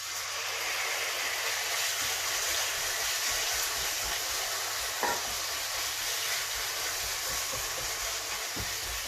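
Beef sizzles and spits in hot sunflower oil in a wok, a loud continuous hiss with occasional sharp crackles as the meat is kept moving.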